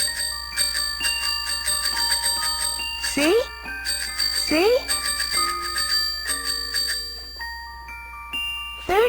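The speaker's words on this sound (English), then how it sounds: "a little bell that I can ring" The little bell on a red tricycle rings in several bright, repeated dings over a musical background, interleaved with a child-like voice speaking briefly.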